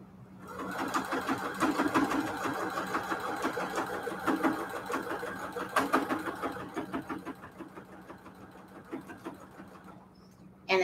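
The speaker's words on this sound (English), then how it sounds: "So I'm gonna straight stitching over here." A sewing machine straight-stitching a mat runs in a fast, steady mechanical rattle, close and fairly quiet, with brief pauses and a soft clunk at the end.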